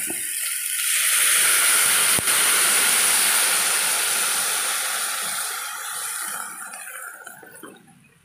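Coconut milk poured into a hot pan for ginataang gulay, a loud, steady hissing sizzle that builds quickly, holds for several seconds, then gradually fades away.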